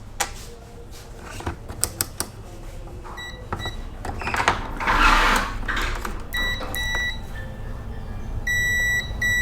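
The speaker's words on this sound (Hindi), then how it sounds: "ये देखिए, ये तीनों पिन इसका आपस में बीप दे रहा है।" Repeated multimeter continuity beeps sound while the three pins of a shorted 25N120 IGBT from a Kent KAG-01 induction cooktop are tested. Sharp clicks of the probes come first, then steady electronic tones in several bursts, near and clear.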